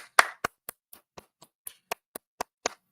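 A single person claps slowly and unevenly, about eleven sharp, close claps spaced roughly a quarter second apart with silence between them.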